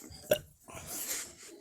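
A short burp lands near the start, followed by a softer, hissy stretch of breathy noise, with no speech over it.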